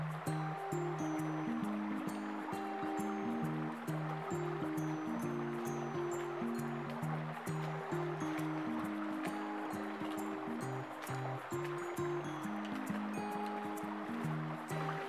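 Creek water flows steadily near the Hyperion redwood, a continuous wash of rushing stream under louder tonal background music, with no voices.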